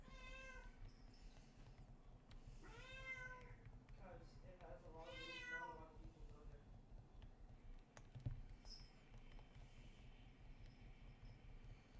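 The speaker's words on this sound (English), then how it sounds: "Cat's being the cat." A cat meows a few times close by during a video game session, with faint keyboard typing and clicking in the background and a person talking over it.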